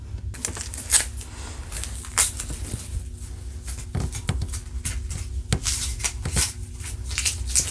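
Scissors snip through inexpensive Dollar Tree cotton fabric, with a run of crisp, irregular clicks and rustles close by over a steady faint background hum, no voices.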